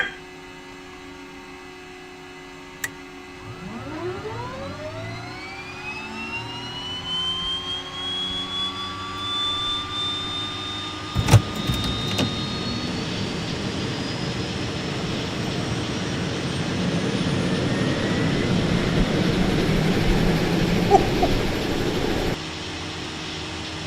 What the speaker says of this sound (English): You hear the prop like chopping.